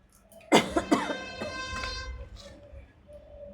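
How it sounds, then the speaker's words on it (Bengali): A person coughs several times in a quick burst, loud and close, followed by softer throat noises and quieter trailing coughs. "এই যে কাশি আমার সবারই কাশি হয়েছে বুঝছেন"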